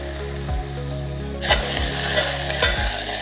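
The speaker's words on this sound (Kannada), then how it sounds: "ಈ ಮೆಂತ್ಯ ಸೊಪ್ಪನ್ನ ನಾವು ಹೀಗೆ ಎಣ್ಣೆಯಲ್ಲಿ ಹುರ್ಕೊಂಡ್ಮೇಲೆ ನಂತರ ಇದಕ್ಕೆ ಹಾಕುವಂಥದ್ದು ಶುಂಠಿ ಮತ್ತು ಬೆಳ್ಳುಳ್ಳಿ ಪೇಸ್ಟ್" Fenugreek leaves sizzle steadily in hot oil while ginger-garlic paste is stirred in, with a louder burst of frying partway through and a few soft scrapes of the spoon against the pan; no voices.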